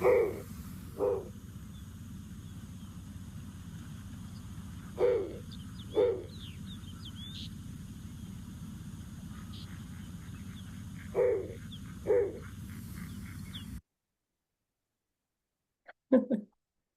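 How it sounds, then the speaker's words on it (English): A snowy owl in the Arctic gives short, low hooting calls, mostly in pairs spaced several seconds apart, over a faint steady background hiss, with one more brief call after a pause. "It is a snowy owl"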